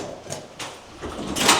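An automatic door in a New York apartment building opens with a few soft mechanical whirs and clunks, ending in a louder sliding rush, heard close and fairly quiet.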